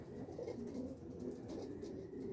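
Faint, soft cooing from pet pigeons, low rounded coos repeating gently with no talk over them.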